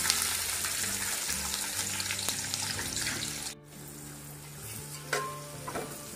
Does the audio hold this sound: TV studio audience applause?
no